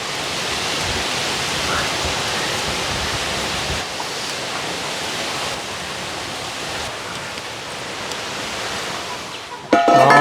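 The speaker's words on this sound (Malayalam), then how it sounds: "ഭയങ്കര കാറ്റാ." Strong wind blowing outdoors at a home kitchen where Kerala sambar is being cooked, a loud steady broadband roar lasting throughout, with a brief sharper disturbance near the end.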